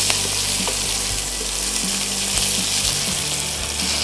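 Tomato going into a pan of spicy bean fry, with steady loud oil sizzling and frying crackle running throughout and light stirring clicks, with no talk.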